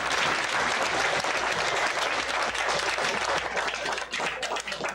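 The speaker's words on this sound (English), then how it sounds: "Local sailors then broke out into a sportsman's cheer." Local sailors applaud after an America's Cup regatta race, a dense burst of clapping and cheering from a crowd, steady and fairly distant, with no speech over it.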